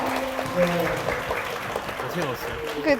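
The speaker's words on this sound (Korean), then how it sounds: "우리 박하율 리더님께 다시 한번 큰 박수 부탁드립니다" An audience at a Korean seminar concert applauds leader Park Ha-yul: a moderate rustle of clapping runs beneath voices talking, with brief louder swells.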